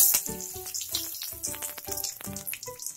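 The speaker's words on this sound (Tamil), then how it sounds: "கடுகு வெடிச்சதும் கருவேப்பிலை போட்டுருங்க." Loud, crackling sizzle of mustard seeds and curry leaves frying in hot oil, with rapid pops and spatters close up throughout.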